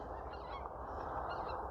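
A flock of geese honks while flying overhead outdoors, repeated distant calls rising and falling over a constant low wind rumble.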